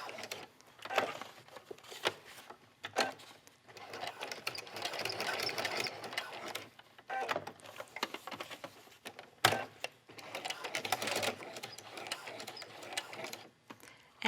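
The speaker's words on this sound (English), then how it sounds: "I'm just sewing right on top of the top stitching that I had before" Sewing machine running in bursts while top-stitching fabric for a dog leash or cage pad, pivoting at corners, with a steady mechanical whir and short pauses between runs.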